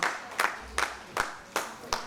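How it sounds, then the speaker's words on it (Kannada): Audience applause at a Kannada stage programme, heard as a few sharp, fairly quiet claps spaced roughly every half second rather than a full ovation. "ಜೋರಾದ ಚಪ್ಪಾಳೆ ಬರಲಿ"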